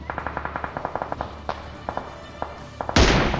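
A burst of rapid gunfire hits the player in a battle royale video game, a quick string of sharp even shots followed by a few scattered ones and a louder blast at the end, with no talk.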